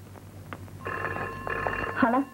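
A telephone rings with a repeated electronic bell tone, fairly close, with a voice speaking over it near the end.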